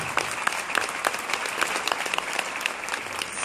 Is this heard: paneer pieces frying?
no